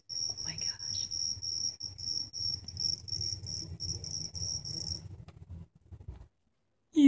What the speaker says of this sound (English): There's a cricket in the vent.